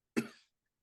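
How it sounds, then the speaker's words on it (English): A single short, sharp human cough, close and abrupt, followed by silence. "Oh, this cough is horrible."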